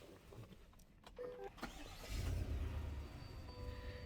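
A 2025 Chevy Tahoe Z71 is started from inside the cabin. After a few faint clicks and a short whirring tone, the engine cranks and catches, then settles into a smooth, quiet idle.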